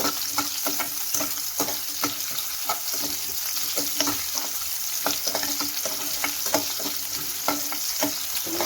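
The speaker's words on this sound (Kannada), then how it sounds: "ಒಂದು ಈರುಳ್ಳಿ, ಇದನ್ನು ಫ್ರೈ ಮಾಡ್ಕೋಬೇಕು" Onion frying in a few spoons of oil for tomato chutney, a steady close sizzle broken by regular scraping taps of a spoon stirring against the pan.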